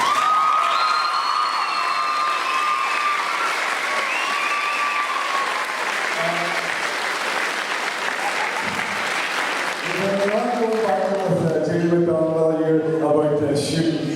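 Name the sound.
crowd applauding and cheering youth basketball team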